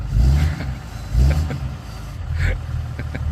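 A pickup truck drives off nearby, its engine revving in two swells and then settling into a steady, fading rumble with no talking.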